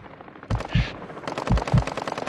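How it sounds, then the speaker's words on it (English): Loud, close machine gun fire in Warzone 2 gameplay, rattling out in two rapid bursts of rounds separated by a short pause. "I'm taking a fucking fire!"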